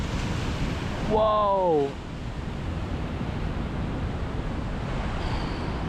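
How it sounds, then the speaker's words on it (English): Massive ocean waves surge onto the Scottish coast near an abandoned 1700s cottage, a steady, broad rushing roar with one brief startled exclamation from a person early on. "massive waves right here coming in"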